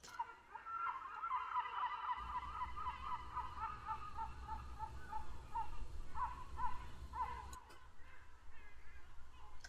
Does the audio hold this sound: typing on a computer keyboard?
no